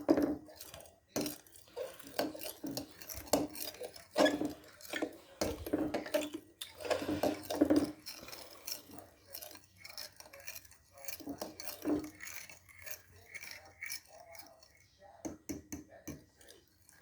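Burger meat mixture being stirred in a bowl, with scattered clinks and scrapes of a utensil against the dish and intermittent talking over the top.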